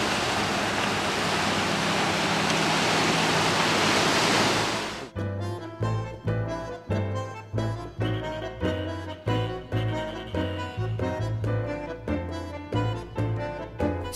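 Ocean surf rushes steadily on the shore below the Breakers mansion in Newport, a dense broadband wash for about five seconds before cutting to a different section with rhythmic, music-like pulses.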